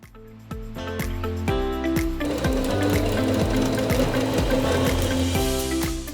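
A sewing machine hums and stitches steadily at a fast rhythmic pace, loud and close, after a brief start-up.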